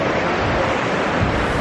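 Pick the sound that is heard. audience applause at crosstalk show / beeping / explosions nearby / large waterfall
large waterfall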